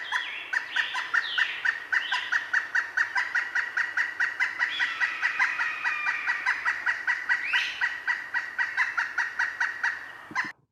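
A pileated woodpecker gives a loud, rapid series of high, laughing calls in a steady rhythm for several seconds, close and clear with little background noise.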